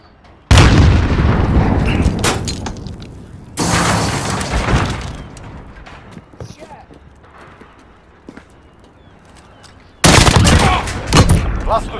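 Gunfire in a shooter game comes as loud, sustained bursts with rumbling booms, then a quieter stretch, then another loud burst, with a voice talking over the quieter parts.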